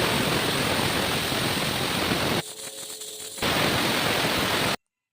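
Water poured steadily into a cooking pot for vegetable pulao, a loud continuous splashing rush that pauses briefly midway, then resumes and cuts off abruptly.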